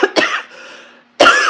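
A single sharp adult cough bursts out close and loud, followed by a rough throat-clearing rasp and a short pause, then another strong cough.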